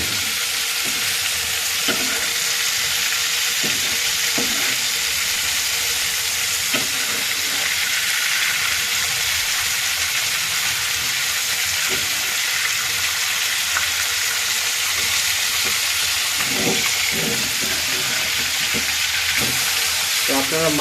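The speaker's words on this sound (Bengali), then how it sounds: "আপনারা মাছ ভাজির একটা সুন্দর একটা আওয়াজ শুনতেছেন" Tilapia fish fries in hot oil in a pan, giving a loud, constant sizzle with occasional crackles and faint stirring clicks throughout, and no voices.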